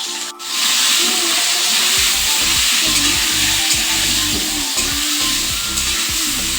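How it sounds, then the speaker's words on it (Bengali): Potatoes fry in a pan with salt and turmeric, giving a loud, close, continuous sizzle and hiss broken by a few stirring knocks. No voices are heard. "এবার আমি আলুটাকে লাল লাল করে ভেজে নেব"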